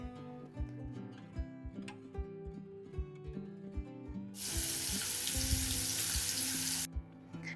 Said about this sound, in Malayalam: ഇനി ഈ അരപ്പ് നന്നായിട്ടൊന്ന് തിളച്ച് വരുന്ന സമയത്ത് നമ്മൾ നേരത്തെ വൃത്തിയാക്കി വെച്ച മീൻ ഇട്ട് കൊടുക്കാം.